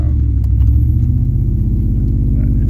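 A 1994 Ford Lightning pickup with a swapped-in Coyote engine drives along, its loud, steady low rumble filling the cabin with small rises in pitch, no voices present.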